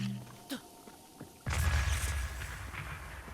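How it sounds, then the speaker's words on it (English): A sudden explosion in Zelda: Breath of the Wild bursts in about halfway through, a loud booming blast that rumbles on to the end, after a stretch of quieter in-game ambience with faint scattered clicks. "She wants to see an exciting explosion."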